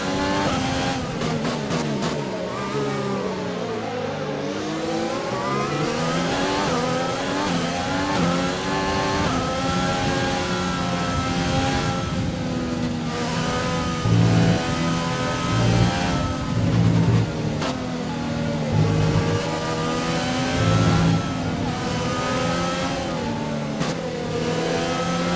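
An F1 2020 race car engine in the video game, racing at the USA round, wails continuously at high revs, rising and falling through gear shifts with sharp upshift blips, loud and close with no talking.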